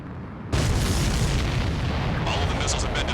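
Missiles exploding in Ace Combat 7: a sudden loud burst erupts, then a sustained roaring rumble of blasts and debris continues, with brighter crackling near the end.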